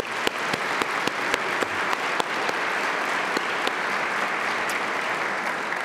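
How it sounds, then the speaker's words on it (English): Big round of applause from an audience at an evening event on ending the death penalty: dense, continuous clapping from a large crowd, loud and sustained throughout, with a few sharper individual claps standing out near the start. "so let's give them a big round of applause."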